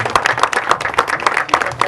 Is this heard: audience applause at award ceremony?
yes